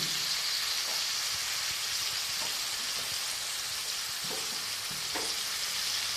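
Vegetable stems and salt fry in a pan of spiced bata fish curry, giving a continuous dense sizzle with a few soft stirring knocks, close and even throughout, with no talking.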